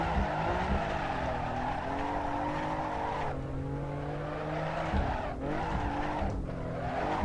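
A sim racing car oversteers in a video game, its engine droning loud and constant while tire squeal and skidding rise and fall, with brief dips as the throttle lifts.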